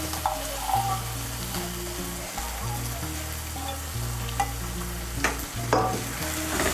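Masala for soyabean kosha sizzles steadily in a pan as a handful of peas goes in, with a few stirring scrapes and a tonal musical backing running underneath throughout.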